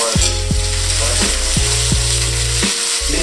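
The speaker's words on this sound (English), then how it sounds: "make sure as the butter smells that you also kind of basting your steak within that butter" Steak frying in a pan while being basted with melted butter, a loud constant close sizzle with a low rhythmic hum running underneath, no voices.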